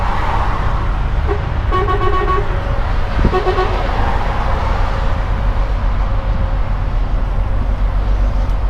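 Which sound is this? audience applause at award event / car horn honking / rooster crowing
car horn honking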